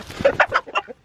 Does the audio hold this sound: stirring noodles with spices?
no